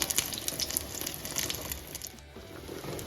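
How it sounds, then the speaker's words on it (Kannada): Marinated Bangda fish frying on a hot tawa gives a steady, close hiss of sputtering oil with scattered crackles, continuous for the whole stretch and without talk. "ಮ್ಯಾರಿನೇಟ್ ಆಗಿರೋ ಫಿಶ್ನ ಈ ಥರ ತವಾ ಮೇಲೆ ಹಾಕಿ ಫ್ರೈ ಮಾಡಬೇಕು"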